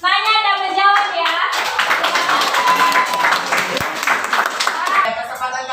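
Audience at an Indonesian school group presentation claps hands in a burst of brisk, close applause, with children's voices and talk mixed in around it.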